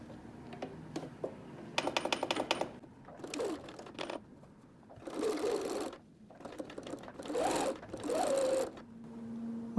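A sewing machine stitches a seam in stretch fabric for a headwrap and scrunchie, running in several short close bursts of rapid mechanical rattling, separated by quiet pauses and soft handling clicks.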